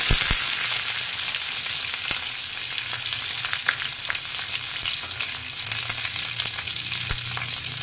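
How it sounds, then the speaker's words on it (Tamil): Ginger sizzles and fries in hot oil in a pan, a constant dense crackle with occasional stirring clinks, cooking for a mutton curry. "இஞ்சி போடுறேன்."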